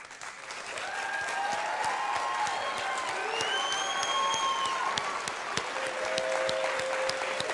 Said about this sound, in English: I want all of these people right here to clap for them like you have never clapped before